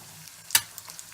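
An egg frying sunny side up in a spitting, bubbly pan, a soft sizzle with one sharp loud pop and a few fainter crackles.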